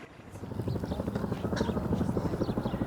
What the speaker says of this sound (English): Helicopters fly overhead.